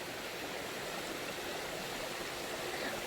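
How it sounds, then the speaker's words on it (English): Waterfall rushing along the Appalachian Trail, a steady, dense broadband roar of falling water, heard alone without talk and with no letup. "Waterfalls all the way down."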